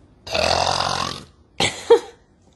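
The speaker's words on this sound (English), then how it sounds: "I burp too much." A woman lets out a long, loud burp, then after a pause a shorter, sharper burp follows with a brief croak at its end.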